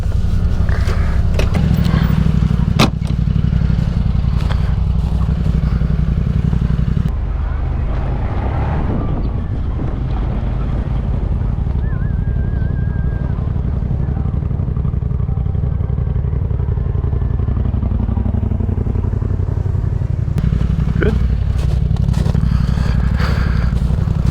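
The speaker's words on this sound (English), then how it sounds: "I'm not even gonna shut the bike off." An off-road bike engine left idling outdoors in winter, a loud, steady low rumble close by with wind buffeting the mic and a few scrapes and knocks over it.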